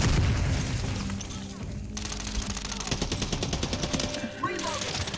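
Rapid gunfire from a shooter video game rattles in quick bursts of hip-fired shots, with someone talking over the steady crackle of the weapon.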